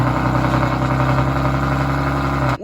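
Nissan G37 with its exhaust removed runs at a steady, loud, raspy drone close by, cutting off abruptly at the end, with no talking.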